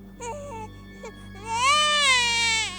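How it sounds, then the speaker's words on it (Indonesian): A baby cries in a ghost story on haunted Mount Lawu, starting with short whimpering wails and then rising into a long, loud, high sob, close and clear over a steady low hum. "suara bayi nangis."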